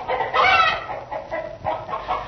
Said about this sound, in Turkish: Civcivleriyle gıt gıt gıdaklayarak yerdeki darıları yemek istedi.